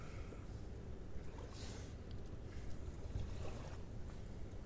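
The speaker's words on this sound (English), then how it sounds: "The waves are rolling" Ocean waves rolling in at sunset, a continuous soft wash of surf with gentle swells, heard at low level alongside some wind noise.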